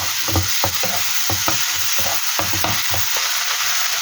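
Tomatoes drop into onion and garlic frying in a pan for bitter melon stir-fry, giving a steady close sizzle broken by repeated scraping stirs of a utensil against the pan, with no voices.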